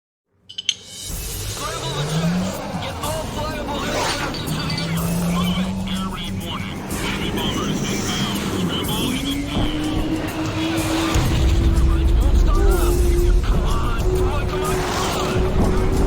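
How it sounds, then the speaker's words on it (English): A drifting Humvee engine in the Ace Combat 5 video game, a steady rising engine drone with tire squeal and skidding noise running throughout, while a voice talks over it. "It's always a drifting Humvee."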